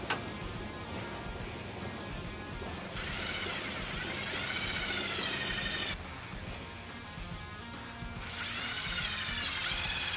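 A power drill with a step bit whines in two long bursts, drilling a 5/16-inch hole in a Jeep Wrangler, stopping briefly between them, with some faint clicking and handling noises around it.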